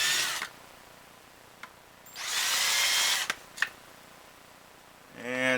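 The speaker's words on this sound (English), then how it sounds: "And you just need to drill a little bit. You're not looking to go all the way through the PVC." A power drill bites briefly into a PVC bow handle, two short bursts of high whining buzz close by, separated by quiet and small clicks, ending with a low motor hum.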